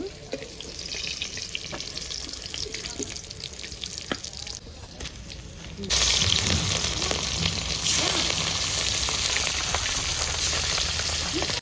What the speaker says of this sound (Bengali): মাছগুলো পরপর ভাজা নেব।